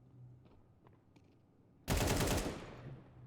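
Counter-Strike gunfire during a tournament match, a sudden loud burst of rapid shots after quiet, faint clicks, ending in a fading echo.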